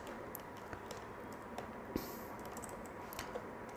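Quick, light keystrokes on a computer keyboard as a Linux touch command is entered, soft irregular clicks at close range against a quiet background, with no talking.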